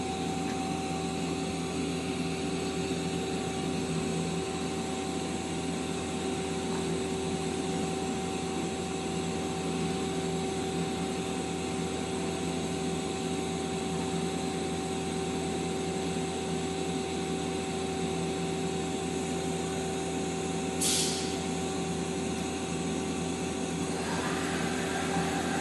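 A 2006 Mazak Quick Turn Nexus 200MS CNC lathe runs its sub spindle at high speed, giving a steady, loud machine hum with constant tonal whine. A brief high-pitched sweep sounds near the end.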